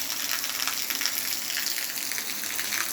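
Light drizzling rain falls in a steady, soft, close hiss that stays even throughout, with no voices.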